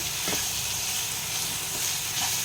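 Ginger, garlic and green chilli paste fries in hot oil for soybean curry, giving a steady, close sizzle and hiss with faint stirring scrapes, without speech.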